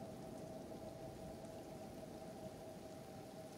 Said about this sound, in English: It is acid rain.